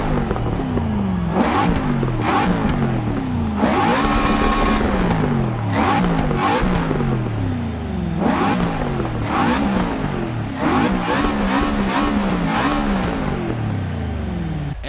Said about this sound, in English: that has to be one of the best V8s ever made. Seriously, the sound is incredible.